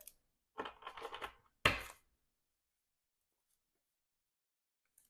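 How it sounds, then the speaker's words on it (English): A player deck of game cards is shuffled: two quick bursts of riffling and flicking cards close up, then a sharp snap as the deck settles, followed by silence. "So we're going to shuffle our player deck."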